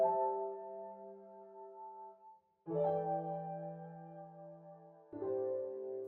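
Sustained tonal notes ring out in three sections, each tail lingering and smearing into a reverberant wash, like sound reflecting off room walls, from a reverb effect in Ableton Live with reflections turned up fully.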